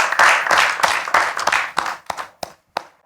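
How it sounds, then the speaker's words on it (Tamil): An audience claps to welcome a guest onto a television talk show stage. Dense, loud applause fills the first half, then thins into scattered separate claps that die away. "மீண்டுமா ஒரு பெரிய கைத்தட்டலோடு"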